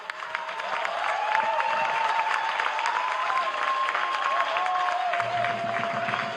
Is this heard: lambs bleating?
no